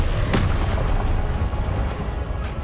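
Incendio fire spell cast in Hogwarts Legacy: a sharp burst at the start followed by a loud, roaring rumble of flame that persists for a couple of seconds.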